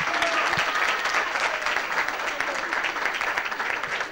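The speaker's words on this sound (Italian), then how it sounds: "Facciamogli un grande applauso!" Audience applause for a child in hospital, steady and dense clapping from a crowd that fills the whole stretch with no pause.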